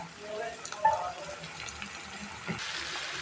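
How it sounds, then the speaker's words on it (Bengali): Ginger garlic paste is poured into a hot cooking pan of fried, reddened paste, giving a steady low sizzle and wet splashy hiss with a brief louder burst as it lands. "এখন আমি আদা রসুন এগুলো ঢেলে দিলাম।"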